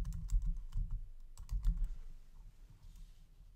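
Keys on a computer keyboard clack in two quick runs of typing close by, with no voice over them.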